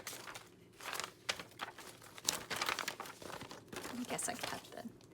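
A paper tourist map being handled and folded, giving close, irregular crinkling and rustling with a few sharper crunches throughout.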